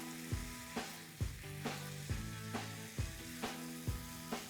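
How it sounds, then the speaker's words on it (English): Beef browning in a pan gives a quiet steady sizzle, broken by regular scraping knocks as a spoon breaks up the meat, roughly twice a second. "I'll break this up with my spoon and brown it all over."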